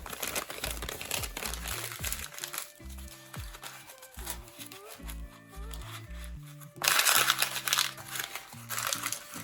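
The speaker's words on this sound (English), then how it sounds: "and stuff it tightly into the toilet paper roll." Crumpled paper stuffed tightly into a cardboard toilet paper roll, giving close, continuous crinkling and rustling with scraping pushes, loudest in a burst near the end, over quiet background music.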